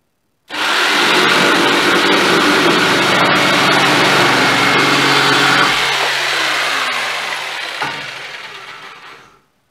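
A GINOUR jigsaw cutting through oak hardwood runs loud and steady for about nine seconds, a harsh buzzing rasp with a slight drop in pitch near the end before it cuts off.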